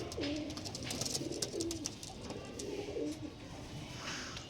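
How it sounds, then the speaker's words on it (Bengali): Pigeons of a high-quality fancy breed coo in repeated soft, throaty phrases close by. Faint background noise sits underneath, with no talking. "কাকে বলে পিলাঙ্কা পায়রা দেখে নাও"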